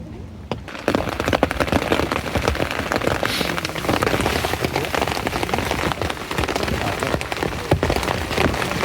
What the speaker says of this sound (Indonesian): jadi masih hujan ya, gerimis sih, tapi lumayan ya